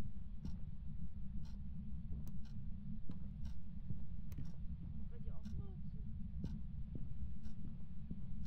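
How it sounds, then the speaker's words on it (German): A slow, steady heartbeat from the ghost-hunting video game Phasmophobia thumps at regular intervals over a constant low droning hum, faint and muffled, with a few soft clicks and murmurs in the background. "der gerade Herzschlag"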